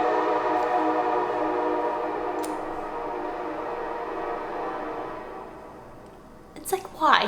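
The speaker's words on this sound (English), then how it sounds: "We interrupt this break for the annoying train passing by." A train rumbling steadily past nearby, a sustained loud roar with a tonal hum that fades slightly, then a sharp burst of horn or wheel squeal near the end.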